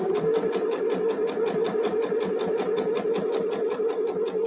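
A sewing machine stitches fabric scraps with white thread in a fast, even rhythmic whir, steady and close with no pauses or talking.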